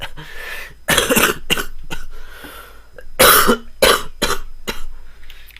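A person coughs repeatedly in harsh clusters, close to the microphone, with short pauses between the fits.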